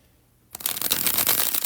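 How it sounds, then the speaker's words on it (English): A deck of playing cards given a bridge shuffle: silence, then a sudden dense riffle of rapid flicking card clicks, close and crisp, running to the end without talk. "Here's the bridge shuffle, folks."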